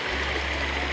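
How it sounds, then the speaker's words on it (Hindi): Water pours steadily over a waterfall, a continuous close rushing hiss with a low hum beneath, alone with no voices. "ये पानी ऐसे बह रहा है"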